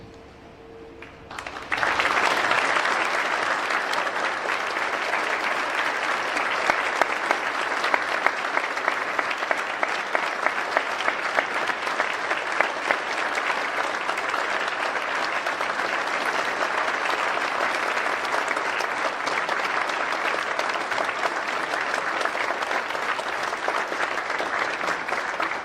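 A large indoor audience applauds veterans at a Veterans Day celebration, sustained loud clapping starting abruptly and continuing evenly for over twenty seconds, dense and close, with no speech over it.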